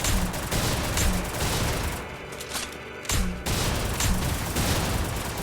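Sustained gunfire in the shooter game Free Fire, dense rapid shots close and loud, a short lull midway before the volley resumes.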